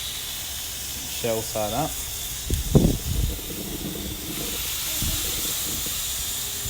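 Crayfish on a barbecue giving off a steady, fairly faint hiss throughout, with someone briefly talking over it and a few knocks as the shellfish is set down.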